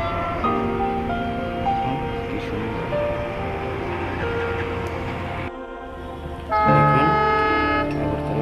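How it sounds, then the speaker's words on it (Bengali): A train pulls out of Agartala railway station, its loud sustained horn tones layered over engine rumble and station noise, dropping briefly before a strong horn blast returns near the end. "এখন রেল বেরিয়ে যাবে"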